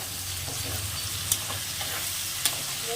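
Amudi fish stirred with salt in a hot frying pan gives a steady, close sizzling hiss with low scraping from the spoon, broken by two sharp utensil clicks.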